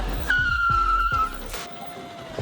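A 200cc motorcycle's rear tyre squealing as it skids under hard braking, a sharp sustained screech over engine noise, close, fading after about a second.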